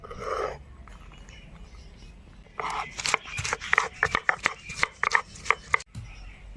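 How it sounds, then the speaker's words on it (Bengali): Ginger, garlic and green chilies being ground together into a paste for a ridge gourd dish, a quiet scraping start followed by a busy run of sharp, rhythmic strokes and knocks up close. "আদা, রসুন, কাঁচা লঙ্কা সব আমি একসঙ্গে বেটে নেব।"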